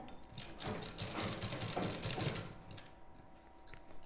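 A sewing machine stitching a sleeve onto the front of a garment runs in a fast, steady mechanical whir for about two and a half seconds, then slows and fades, close and quiet with no speech.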